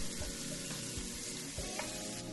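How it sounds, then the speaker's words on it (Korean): Finely chopped onion and garlic stir-frying in a pan, a close, steady sizzle with faint scrapes and stirring clatter, no voices. "마늘 향이 올라올 때까지 30초 정도 볶다가 양파 반 개를 잘게 썰어 넣고 1분 정도 볶아줄게요"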